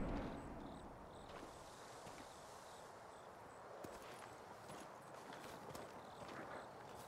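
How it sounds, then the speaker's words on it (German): Horse hooves clip-clop at a steady walking pace in the video game Ghost of Tsushima, faint and continuous over a dense outdoor ambience with no voices. "So ein schönes Pferd."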